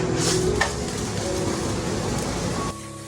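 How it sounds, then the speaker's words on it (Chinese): Steady soft sizzle of an oat and flour flatbread frying over low heat in a lightly oiled pan, continuous and close, with a faint clink near the end. "下面一直煎到金黄色，再翻一个面继续煎"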